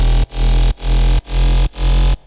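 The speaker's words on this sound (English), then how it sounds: "and with the sub bass it sounds like this." A synth bass layered with a deep sub bass thumps out four loud, full, sustained notes in a steady rhythm. Each note swells in quickly and cuts off sharply before the next.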